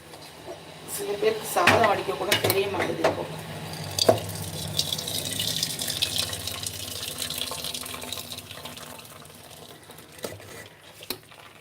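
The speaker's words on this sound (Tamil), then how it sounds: "சாதம் வெந்து போச்சு அதை வடித்து விட்டுட்டு வருகிறேன்" Water from boiled rice pouring off a pot while draining, a close splashing gush that tapers into a steady trickling run, with a clunk of the pot and some background talk.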